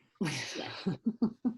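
A single sneeze during an online meeting, a sharp breathy burst followed by a few short voiced sounds as someone briefly speaks, close to the microphone.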